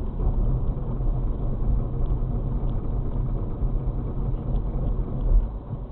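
A car brakes to a stop from about 25 mph on a snowy road, heard from inside as a steady, close low rumble of engine and tyre noise that stays even for the whole stretch.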